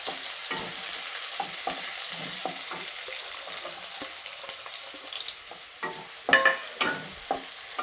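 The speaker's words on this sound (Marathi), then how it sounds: "ते कांदा परतून घेते तेलामध्ये चांगला" Onion frying in hot oil for a Marathi vegetable recipe, a steady crackling sizzle broken by repeated close scrapes of a spoon stirring the pan. The stirring grows a little louder near the end.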